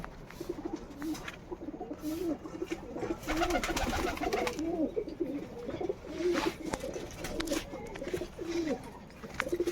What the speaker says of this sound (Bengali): কবুতরগুলো এখন উঠছে তো